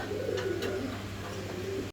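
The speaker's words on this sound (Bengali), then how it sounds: "আপনারা দেখতে পাচ্ছেন এক পেয়ার মুন্ডিয়ান নতুন কবুতর" Soft cooing from a pair of new Mundian pigeons, low throaty coos repeating faintly under a steady background hum.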